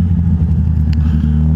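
A motorcycle riding out of Le Havre through congested traffic, its engine rumbling loud and close with a steady throaty tone and a brief clatter midway.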